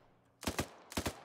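Gunfire in Arma 3: two quick double-shot bursts about half a second apart, sharp and loud after a near-silent start, with nobody talking.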